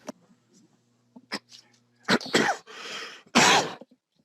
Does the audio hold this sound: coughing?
yes